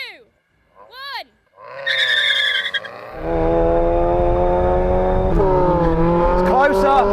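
Supercharged Mazda Roadster drag cars launch with rising engine revs and a sudden loud surge of wheel spin and engine roar that climbs through gears, preceded by brief chirping squeals and a short countdown lull.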